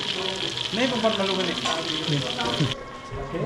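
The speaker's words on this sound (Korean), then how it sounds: "기름에 튀기고 있고요" Oil sizzles and crackles steadily as food fries at a cooking class in Ubud, Bali, while voices talk over the hiss; the sizzle drops off sharply near the end.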